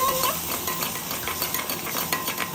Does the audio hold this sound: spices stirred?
yes